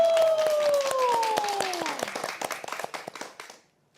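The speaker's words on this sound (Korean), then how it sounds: "우리 박수로 청하겠습니다" Clapping from a church congregation welcoming a worship singer, crisp individual claps under a sustained voice or tone that slides downward, thinning out and stopping abruptly near the end.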